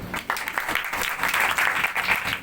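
An audience at a church gathering claps together in a dense, steady burst of applause that lasts a couple of seconds.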